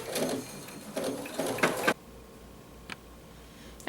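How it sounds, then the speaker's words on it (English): Up close, a sewing machine runs a satin stitch around the appliqué leaves of an owl mug rug in a fast, rattling burst of almost two seconds that pulses slightly, followed by near quiet with a couple of faint clicks. "I'm going to start the machine. It's going to stitch the satin stitch around here."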